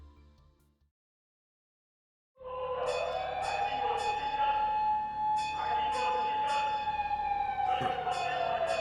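City emergency sirens in The Kaito Flies video game, a loud wailing tone with rising and falling pitch that starts abruptly after a brief silence and carries on steadily, with faint speech beforehand.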